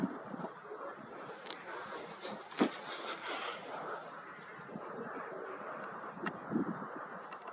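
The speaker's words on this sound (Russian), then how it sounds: "Ну не буду я сетовать на ветер" Steady outdoor wind rushing and buffeting the microphone, with a couple of brief thumps, moderately loud and continuous throughout, recorded in March.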